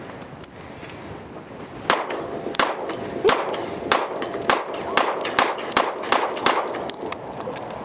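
Roughly ten sharp shots from a Staccato P pistol ring out in a steady, evenly spaced string, loud and close with a metallic ring on each report and no talking between them.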